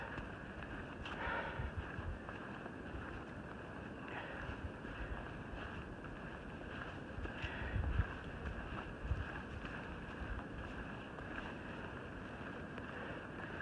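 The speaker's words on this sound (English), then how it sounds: "listening to these sounds, a little bit of the wind" Wind blows outdoors on a mountain trail at Bly Gap, North Carolina, as a steady, moderately loud broadband rush with a few brief gusts and no talking.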